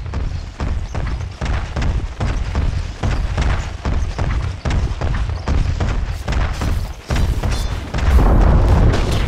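Heavy booming impacts and thuds repeat in steady succession as Dire's top tower is attacked and destroyed in Dota 2, loud and dense, swelling into a bigger crash near the end.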